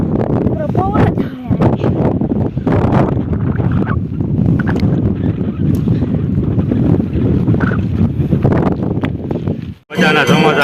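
Strong wind buffets the microphone on top of a tall hill, a loud continuous roaring rush with gusty surges, cut off briefly near the end, while people talk intermittently.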